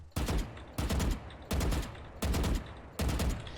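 Five evenly spaced short bursts of Vandal rifle fire in the video game Valorant, each a rapid cluster of two or three loud, sharp shots followed by a brief decaying tail and a pause.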